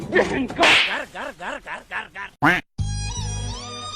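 In a Humpty Duck cartoon, a single sharp, snappy slap crack comes after a run of warbling, quack-like squawks. Bright musical tones follow right after the hit.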